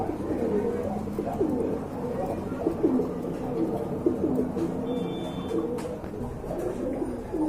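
Pigeons coo steadily at a busy pigeon market, the soft rolling calls repeating throughout amid a constant murmur of crowd noise and background chatter.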